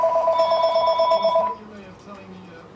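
A telephone rings with bright, close electronic trills for about a second and a half, then stops, leaving low room noise.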